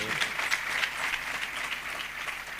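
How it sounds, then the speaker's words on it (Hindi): An audience applauds together at a Chhattisgarhi Ramayan recital and religious gathering, sustained dense clapping that stays steady and fairly loud throughout without any talk. "एक बार छत्तीसगढ़ महतारी के लिए ताली बजा दिया जाए आप सबके ओर से।"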